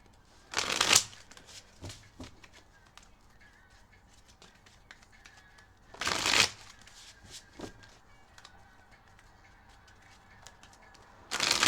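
Playing cards are shuffled in three quick riffling bursts with quiet gaps between, plus faint handling clicks.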